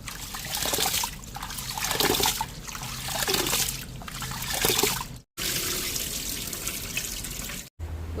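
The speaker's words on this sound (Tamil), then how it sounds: "நல்லா அப்படி கிளஞ்சி கழுவி எடுப்போம்" Cowpeas being washed by hand in a bowl of water, with steady sloshing and trickling broken by two short pauses, close and clear.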